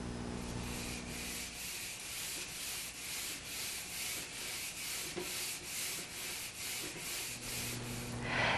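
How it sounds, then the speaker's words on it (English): Fine-grit sandpaper worked by hand over polyurethane-coated plywood, a steady, close scratching in rhythmic back-and-forth strokes that continues without pause. "you'll again have to smooth it out with a fine grit sanding"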